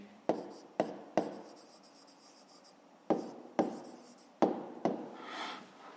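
Close, faint tapping and scratching of a pen or pencil writes an answer by hand for a fifth-grade maths exercise. Sharp ticks come in short clusters with quiet gaps between them, with no voice over them.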